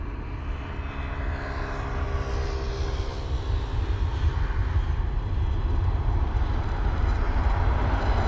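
A jet airliner passing low overhead at East Midlands Airport, a loud broad engine roar building steadily and holding strong throughout, with no talk.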